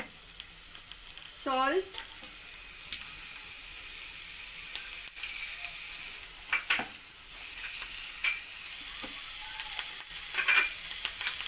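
Vegetables fry in a pan for pizza pav, making a steady close sizzle and hiss with occasional stirring scrapes, while a person speaks briefly.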